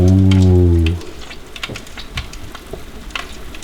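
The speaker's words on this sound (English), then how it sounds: "Sizzling." After a loud tonal hum cuts off, food sizzles steadily in a pan with crackling pops, close and continuous.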